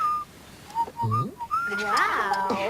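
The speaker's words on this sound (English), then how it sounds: "That wasn't me whistling." A person whistles a short, lively tune with sliding, warbling notes that bend up and down, close and clear, with a brief vocal sound mixed in partway through.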